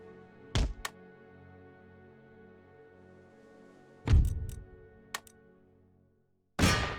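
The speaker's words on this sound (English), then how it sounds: "Keep firing at them with the cannons all the while." Cannons fire in the battle strategy game Empire: Total War, with a few sharp, separate booming blasts spread across a quiet stretch, each decaying quickly and fairly loud.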